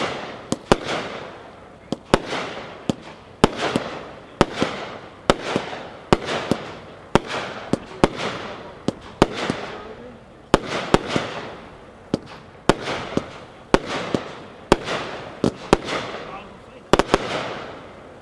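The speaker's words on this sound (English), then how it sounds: "It's a 19-shot red, white, blue strobe glitter finale cake, packed 9-1," A Dominator Pro 19-shot red, white and blue strobe glitter finale fireworks cake fires a long series of sharp, loud bangs roughly a second apart, each followed by crackling that trails off, heard outdoors from a moderate distance.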